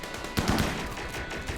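Video game gunfire from RimWorld, a rapid burst of muffled shots rattling together over a dense, noisy background for a second or so.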